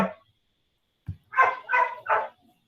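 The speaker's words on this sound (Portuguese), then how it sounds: "o cachorro da minha vizinha já começou." A neighbor's dog barks indoors at a moderate distance, a short yip followed by three quick, full barks after a brief silence.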